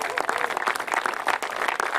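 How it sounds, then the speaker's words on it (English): Applause from an audience at a press conference on SB 32, a dense continuous patter of clapping filling the whole stretch with steady loudness and no voice over it. "Please give him a round of applause."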